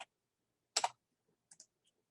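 Sparse, close keyboard clicks: a single tap, then a quick double stroke, then a light pair of taps with short silences between them, as a driver's mileage is entered on a computer.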